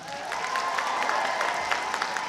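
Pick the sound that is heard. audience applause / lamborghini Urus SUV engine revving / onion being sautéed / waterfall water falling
audience applause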